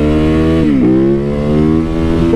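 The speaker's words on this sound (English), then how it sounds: "with a supermoto like this, it's got a ton of bottom end grunt." Supermoto motorcycle engine revving loudly up close, a strong low-end growl that rises in pitch, dips and climbs again, with no talk.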